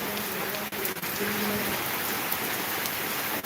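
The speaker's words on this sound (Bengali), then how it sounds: "আর বৃষ্টি যেন থামছেই না থামছেই না" Heavy rain drums continuously on surfaces nearby over flooded streets and lanes, a thick steady hiss with a few faint tonal sounds in the background.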